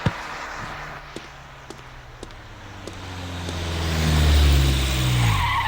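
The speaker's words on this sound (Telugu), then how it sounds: "ఎవడు ఈ టైంలో నా ఇంటి ముందు కారు సౌండ్?" A car pulls up in front of a house at night. Its engine swells and rumbles louder toward the end, with faint tire noise, and a few short clicks and knocks come just before the approach.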